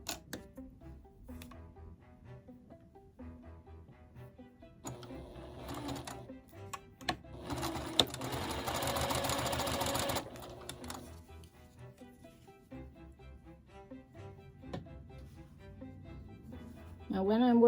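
Sewing machine stitching a quilt seam for a butterfly log cabin block in bursts of rapid mechanical clatter, with the longest run in the middle, under and between a woman's speech.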